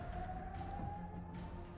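Air raid siren sounding in central Israel, a faint, steady wailing tone that rises slightly in pitch, heard at a distance beneath low background rumble.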